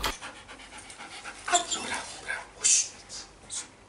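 A search and rescue dog pants in quick, soft bursts close by, with a few louder breathy pulses toward the end.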